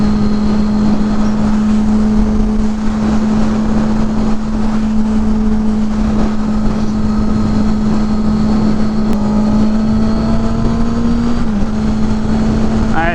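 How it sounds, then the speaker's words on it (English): Motorcycles cruise up the 405 North expressway toward LA in California, producing a steady, loud engine drone with rushing wind and a brief shift near the end, while a rider talks over it. "We are hopping on the 405 North now, all the way up to LA. We're gonna be able to ride the expressways because we're on motorcycles."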